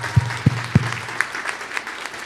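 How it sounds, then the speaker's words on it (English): A panel audience gives a short round of applause, a few distinct claps up front trailing into light, scattered clapping that fades quickly. "let's give them a round of applause"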